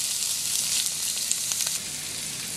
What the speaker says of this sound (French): Donc là, on saisit le légume tranquillement.